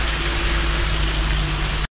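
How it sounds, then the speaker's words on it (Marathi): Steady rain keeps falling, a dense, even hiss of drops that holds at one level throughout and then stops abruptly at the end, with no voices. "अजून पण पाऊस चालूच आहे."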